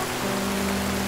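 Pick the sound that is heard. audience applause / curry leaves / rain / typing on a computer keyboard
rain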